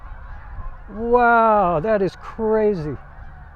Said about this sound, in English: there are like 1 million geese flying across this field right now